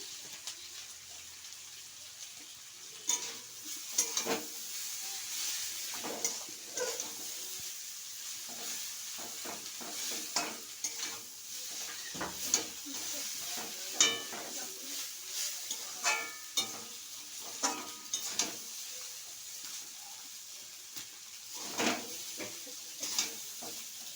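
Maggi instant noodles frying in a kadai: a continuous sizzle with frequent scraping and clattering of a utensil as they are tossed.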